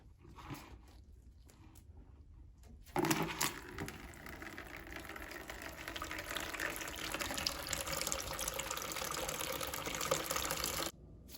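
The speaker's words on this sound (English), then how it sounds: "we can drain the remaining water from the back of the cooler again" Water drains from the back of an Avalon water cooler, a quiet trickle that suddenly gives way to a steady rushing pour lasting several seconds, then cuts off abruptly.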